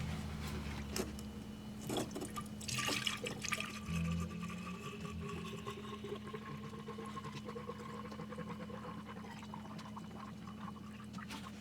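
Orange Dex-Cool coolant, mixed 50-50, pours steadily into the cooling system of a first-generation Chevrolet Cruze after a water pump replacement. The flow gurgles and trickles close by for several seconds under a low hum, with no talking.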